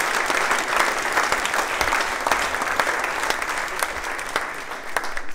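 Sustained applause from the audience at the Ludwig 2017 award ceremony in Siegburg, dense and steady clapping with no pause, loud and filling the hall.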